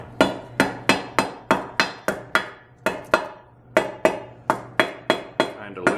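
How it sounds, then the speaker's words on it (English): A rubber mallet taps banjo rim pieces together in a steady series of about eighteen sharp, close knocks, evenly spaced roughly a third of a second apart, each ringing out briefly with no talking. "Got a rubber mallet. So as we tighten these now, we have to tap it down."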